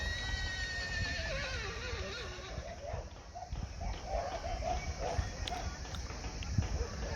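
A horse near Mirik in the Darjeeling foothills of the Himalayas lets out a long, wavering whinny that falls in pitch at the start, then outdoor background with a few softer calls follows.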